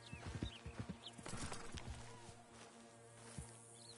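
Horse hooves clip-clop on the ground in a PS4 game, a few distinct steps close by early on, then fading under a steady low background hum.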